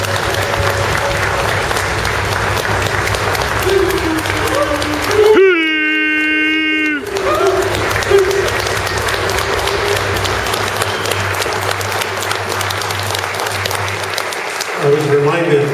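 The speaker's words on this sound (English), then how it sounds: "Let's give him a hand." Steady, loud applause from a gathered audience at a clan chief seating ceremony runs throughout, briefly interrupted by a sustained tonal sound before the clapping resumes.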